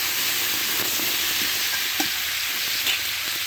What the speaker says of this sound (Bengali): হালকাভাবে ভেজে নিতে হবে মাছের তেল, তারপর তরকারি দিতে হবে।